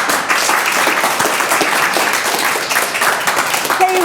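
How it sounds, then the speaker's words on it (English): Dense studio applause greets a music guest at the Artisan Studio at Brucemore. Many hands clap close and loud in a continuous wash, with no gaps and no break for the full few seconds. "I want to clap too when you're coming on"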